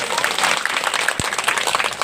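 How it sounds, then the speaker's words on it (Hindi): Audience clapping for itself at a Hindi-language public gathering on Buddha and Ambedkar, a dense steady roar of many hands filling the whole stretch at full volume. "एक बार जोरदार ताली अपने लिए बजा दो।"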